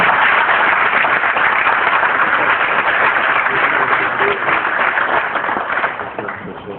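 Sustained applause from a large audience at a health conference on cancer in Africa, a steady dense wash of clapping that fades slightly toward the end.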